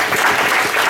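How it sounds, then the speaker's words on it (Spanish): Steady, dense applause from an audience at a school community-projects ceremony in Oaxaca, filling the short moment at full volume without pause. "aplausos."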